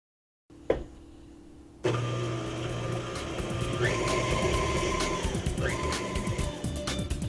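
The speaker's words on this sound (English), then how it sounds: "We'll mix the batter at a medium speed until smooth" An electric mixer beats pumpkin bread batter at medium speed. After a brief clunk, its steady motor whine starts and runs on without stopping, with small shifts in pitch as the beaters work through the batter.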